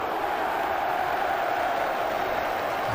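A large football crowd at Highbury during Arsenal v Manchester United roars in a steady, dense wash of voices that holds level throughout without a sharp peak.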